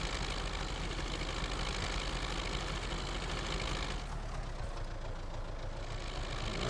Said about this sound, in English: it doesn't take much to pull a weeder across the ground. So this little tractor is kind of perfectly suited to this